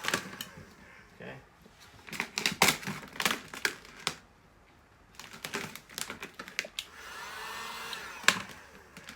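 A heat gun warms vinyl wrap on a Toyota MR2 front bumper, giving a blowing rush near the end, mixed with sharp crinkling and tapping of the film being handled close by, with no talk.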